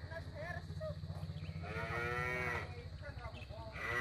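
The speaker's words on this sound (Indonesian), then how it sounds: "Itu ada kandang sapi di bawahnya." Cattle low repeatedly in a cow shed below a hillside vegetable garden, drawn-out moos rising over a steady low rumble of background noise.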